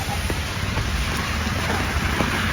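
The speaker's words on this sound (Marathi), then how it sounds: "कसला पाऊस पडतोय." Heavy rain falls steadily outdoors, a dense continuous hiss and patter at constant loudness for the whole few seconds with no pauses.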